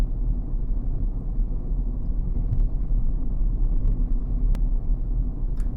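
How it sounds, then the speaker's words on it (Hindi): A car approaches from behind on a steep slope during a driving lesson, a steady low engine and road rumble holding throughout, fairly loud, with no talk. "अब ये गाड़ी आ रही है पीछे से"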